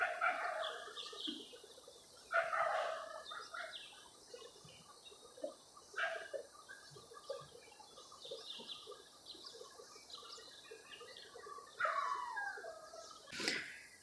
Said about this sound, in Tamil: ஒரு நாய் எங்கே குலைக்குது.